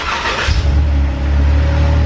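A car engine revs hard up close, a loud rising roar at first that settles into a deep, steady, rumbling idle, with no talking over it.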